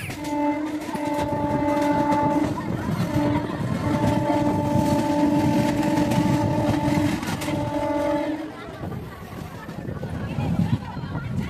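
A train at Ballygunge railway station sounds long sustained horn blasts, broken by short gaps, over a steady loud rumble of rolling wagons and station bustle, with a voice in the background.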